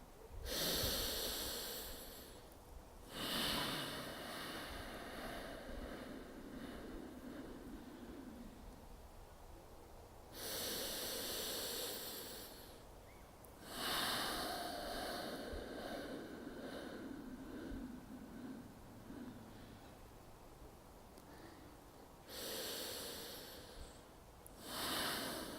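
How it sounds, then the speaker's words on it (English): Slow, deliberate breathing in and out, close to the listener, with long airy exhales roughly twice the length of each inhale, repeated in a calm rhythm across the stretch. "have a feeling that the breathing out is twice as long than the breathing in"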